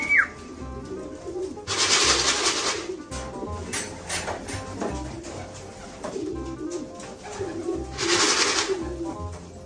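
Racing pigeons coo steadily at their loft after returning from a 50 km race, soft rolling calls repeating close by, with shuffling and wing-flutter bursts over the cooing.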